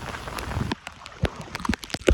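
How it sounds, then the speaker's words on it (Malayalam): Heavy rain pours down during a Kerala flood, a steady hiss of falling water at first that thins into scattered splashes and drips close by, with no voices over it. "ഒരു രക്ഷയില്ലാത്ത മഴ"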